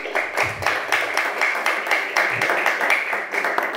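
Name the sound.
audience applause for Diego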